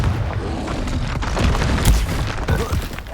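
A Confringo explosion spell in the Hogwarts Legacy video game bursts into a loud, rumbling boom with a heavy low thud near the middle, surrounded by dense blast noise.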